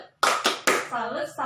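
A group does a short rhythmic clapping cheer, a salute chant at a parenting and child development session, with a few sharp clap bursts followed by voices calling out.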